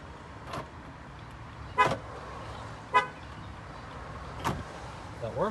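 A 2012 Dodge Journey answers its key fob with four short horn chirps spaced about a second apart, moderately loud over a quiet indoor background.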